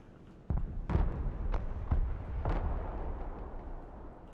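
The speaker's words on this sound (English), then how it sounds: "what this person's going to do is they're going to hit this with artillery" Artillery fire from the video game Broken Arrow lands as a series of about five heavy booms in quick succession, each a sharp burst followed by a rumbling tail over a low background.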